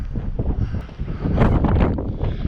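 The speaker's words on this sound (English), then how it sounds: "there's a lot of wind today." Strong gusty wind buffets the microphone outdoors at the ruins of a large old priory church, a continuous roaring rumble that swells louder midway through.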